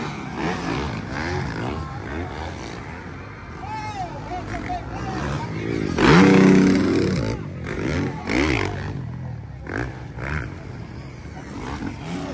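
Yamaha and Kawasaki motorcycles racing in an expert final heat at Kinogitan, Misamis Oriental, engines roaring and revving, swelling loudest midway, under excited commentary and a buzzing crowd.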